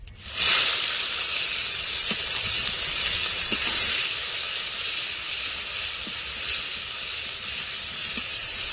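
Grated onion and whole cumin seeds fry in hot oil with a loud, steady, close hiss that starts abruptly and keeps going, broken by a few faint clinks, with no talk over it.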